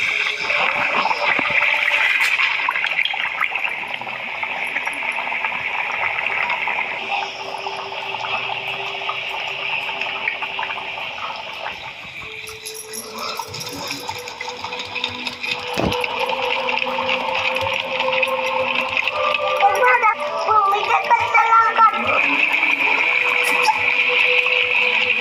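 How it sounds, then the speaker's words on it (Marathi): Kokani kombdi vade dough frying in hot oil, a steady, dense sizzling hiss with crackling bubbles that runs throughout at close range and fairly loud level. "मी आता वडा सोडत आहे"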